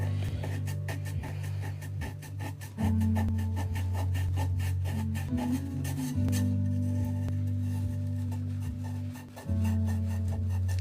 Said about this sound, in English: I'm gonna burnish all this gold